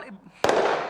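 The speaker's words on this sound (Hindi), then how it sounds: "मैं इसको स्क्रीन पर देख पा रहा हूं कि लगातार धमाके की आवाज आ रही है," A sudden loud blast bursts out during a commando mock drill at the Birla Mandir temple at Moti Dungri in Jaipur, cutting through quieter background sound and leaving a broad rumbling wash behind it.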